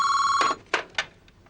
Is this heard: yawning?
no